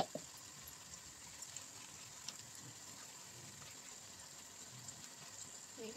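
Tamarind-soaked water pours steadily into a pot of fish curry, a soft, continuous watery hiss that stays faint and even throughout with no talking.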